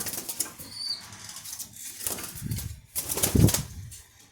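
Close, loud bursts of pigeon wings flapping, several flurries of fluttering beats in quick succession.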